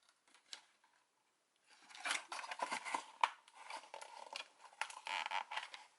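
Faint close-up snipping and crinkling as tape is cut on the plastic packaging of a Mighty Morphin Power Rangers electronic LCD game, a short click first, then a run of scraping, rustling cuts.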